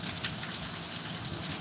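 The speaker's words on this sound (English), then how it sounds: "It's been raining now" Steady rain falls in a dense, even patter on surfaces, continuous and moderately close with no voices.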